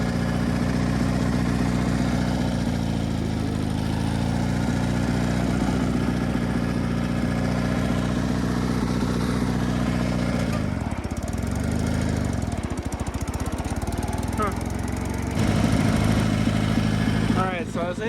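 Sears GT18 garden tractor driving around a yard, its engine droning steadily with a low-pitched running note that dips briefly midway and then revs back up.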